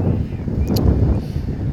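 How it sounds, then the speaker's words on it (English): Wind gusts across an outdoor microphone in a steady low rumble with buffeting, continuous through the moment and fairly loud, with no clear speech over it. "it's a little windy"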